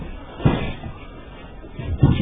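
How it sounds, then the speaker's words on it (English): A walnut thrown inside an old stagecoach inn lands with two dull thuds about one and a half seconds apart, close and fairly loud over a quiet room. "You can actually hear the walnut being thrown at us."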